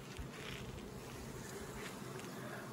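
Honey bees buzz at a hive during queen-rearing work for instrumental insemination, a dense, steady drone that holds at close range throughout with no talking.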